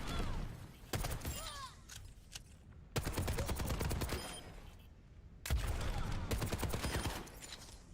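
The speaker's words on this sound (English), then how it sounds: "And then, of course, the rockets." Rockets fire in Overwatch 2 in three loud bursts of rapid, crackling blasts, each lasting a second or two and separated by short pauses.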